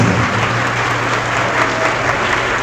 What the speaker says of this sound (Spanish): Me honran sus aplausos